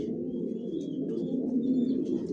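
Racing pigeons in a loft coo in a low, continuous rolling murmur, close and steady throughout, with faint chirps above.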